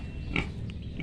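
A lone pig gives a short, close grunting oink at a small hobby pen where only one pig is left.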